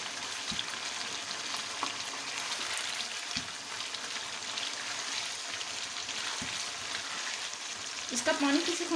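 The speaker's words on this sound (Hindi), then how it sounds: "इसका पानी किसी होने तक हम इसको भूनते रहेंगे।" Mutton shinwari karahi fries in a pan while its liquid cooks off, giving a steady close sizzle with soft stirring scrapes and a brief clatter near the end.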